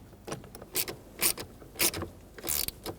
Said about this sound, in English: we are going to tighten down our bolts